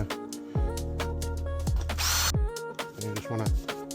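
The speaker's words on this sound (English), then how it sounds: "just want to drill these pot rivets out here" A power drill with an 8mm bit drills out pot rivets holding a car's wiper motor, whirring in repeated bursts with rising and falling pitch as the motor spins up and slows between passes, close and loud.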